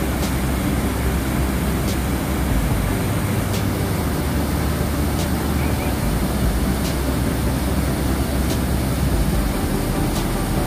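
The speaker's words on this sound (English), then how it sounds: "we can see the full speed of this waterfall now. The water overflowing the entire length of this dam." Water overflowing the full length of Gondi Dam in Bhadravati, Karnataka, India pours and rushes in a constant, dense roar, close and loud, with no breaks.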